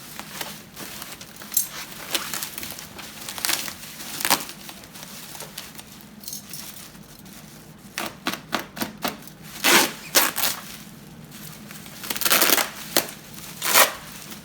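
Box of an ALZRC Devil 380 RC helicopter being opened: scattered crackling, tearing and tapping packaging sounds in irregular bursts, close and fairly loud, no speech.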